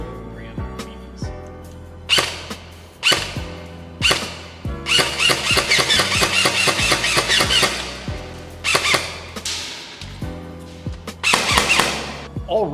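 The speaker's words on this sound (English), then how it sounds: "MCX AEG using the Lighter-R red tracer on red mode, firing the BLS .20 gram BBs." An MCX AEG airsoft gun firing BLS .20 gram BBs with a tracer unit, sharp cracking shots in single pops and rapid bursts, with a longer dense string of fire in the middle.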